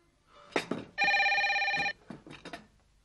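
A telephone rings once for about a second, a bright, buzzing trill set between short bursts of noise and movement, with no speech over the ring.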